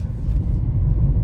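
A slightly rough-around-the-edges car being driven on the road, heard from inside as a steady, close low engine and road rumble with no pauses.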